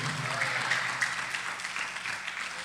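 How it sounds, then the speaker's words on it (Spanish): A church congregation claps together in a sustained, dense burst of applause, fairly close and loud, filling the whole stretch without any voices on top. "Dele palmas al Señor, hermano, a su nombre."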